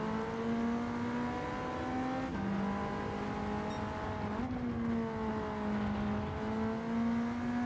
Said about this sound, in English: The noise of the car makes up such a key component of any race weekend.